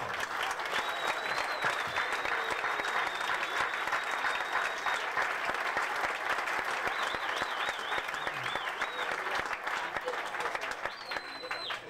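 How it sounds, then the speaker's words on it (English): A tremendous round of applause rises from a crowd at a golf club gathering. Dense, steady clapping fills the room for the whole stretch, with a few whistles and cheers cutting through. "I think they deserve a tremendous round of applause"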